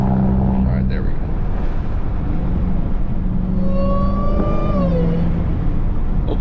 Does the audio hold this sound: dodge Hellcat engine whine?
yes